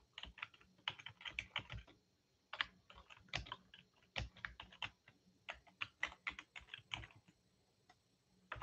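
Typing on a computer keyboard, a steady run of close, crisp key clicks in uneven bursts with brief pauses between, heard alone without talk.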